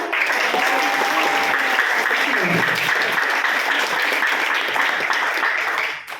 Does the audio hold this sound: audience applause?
yes